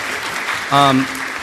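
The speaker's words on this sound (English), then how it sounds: "So just give you guys a big round of applause." Brief applause from an audience at a San Diego Comic-Con 2024 panel, with a voice briefly rising over the clapping.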